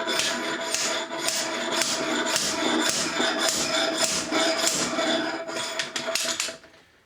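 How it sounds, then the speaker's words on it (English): Steady metallic rasping and knocking as a slide hammer knocks upward on a stuck faucet tap handle, a continuous busy clatter, loud and close, fading out at the end. "We can take the slide hammer and we can hammer upwards."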